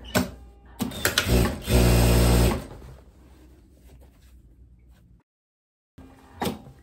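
A sewing machine stitches the side seam of a striped linen dress in a short loud burst of rapid needle clatter, then a quieter mechanical hum before falling silent and a final brief whir.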